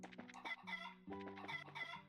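Chickens clucking in the video game Trails in the Sky, with a run of clear, loud, repeated clucks and short squawks over game background music, with no talking.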